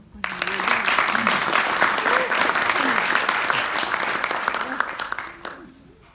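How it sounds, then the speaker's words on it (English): An audience applauds at an evening religious freedom forum at a university, a steady dense round of clapping that swells quickly and holds for several seconds before cutting off. "can we give him a good round of applause?"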